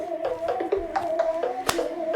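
Sharp hand claps and slaps punctuate a cardio workout, several crisp hits at an uneven rhythm over faint background music, close and moderately loud.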